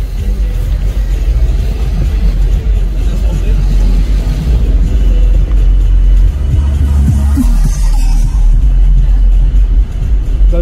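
A BMW 320d E90 X-Drive rumbles loudly up close at a car meet, its engine swelling with a few revs under crowd chatter and talking voices.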